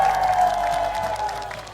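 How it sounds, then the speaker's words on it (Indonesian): A studio audience applauds contestants from Majalaya at a televised cooking competition, a continuous wash of clapping with a sustained tone underneath. "Tepuk tangan dong sekali lagi untuk seluruh peserta dari Kota Majalaya"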